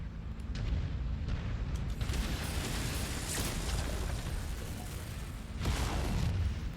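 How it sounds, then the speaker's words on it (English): A mech exploding in MechWarrior 5: Mercenaries, a heavy, sustained rumbling blast with a deep low roar, swelling again near the end, with no voices over it. "Too bad that mech is going to explode."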